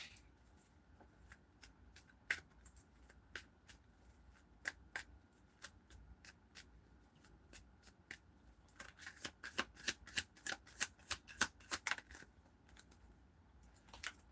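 Tarot cards being shuffled: crisp riffling clicks come in scattered bursts, then build into a louder, faster run of snaps toward the end, close up with no one talking.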